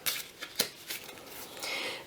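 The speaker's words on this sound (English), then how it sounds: "let's have a little shuffle and see what is in store for Aries" A deck of tarot oracle cards is shuffled close by, giving a few soft, papery riffling bursts and a longer rustle near the end, with no talk.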